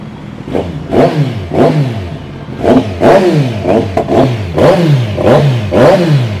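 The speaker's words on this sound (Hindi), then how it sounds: "अभी ये स्टॉक एग्जॉस्ट के अंदर इतनी लाउड है, बेसिकली डी कैट किया हुआ एग्जॉस्ट है" A Kawasaki Z900 with a de-catted stock exhaust revs repeatedly, each sharp rise and fall of engine pitch following closely on the last, loud and near.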